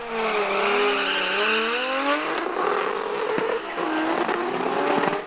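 A Nissan S14 drag car with a 2.8-litre stroker RB26 engine roars hard and loud at close range, its rising engine note climbing through the gears with brief shifts and tyre noise, racing flat out with no voices.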